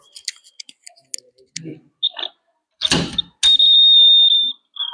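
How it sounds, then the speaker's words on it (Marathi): Several short electronic beeps, then a piercing high-pitched buzzer tone that holds steadily for over a second, close and loud, a password box alarm sounding after a wrong password is entered. "असा बझर वाजतो"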